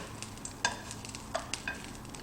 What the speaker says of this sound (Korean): 기름을 약간 둘러주시고, 그 다음에 도라지 하얀 거부터 볶아줍니다